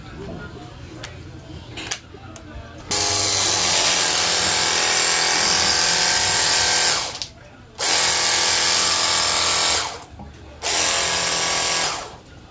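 A portable pressure washer spray gun fitted with a nozzle, its motor and spray roaring in long bursts of several seconds separated by short pauses, with quieter clicks and handling before the first burst.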